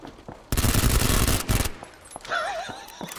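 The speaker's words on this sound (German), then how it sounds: "Da wird doch geschossen." Sustained automatic gunfire in the battle royale game PUBG: Battlegrounds, a rapid loud burst of about a second followed by a few scattered single shots, with a rising whistling tone at the end.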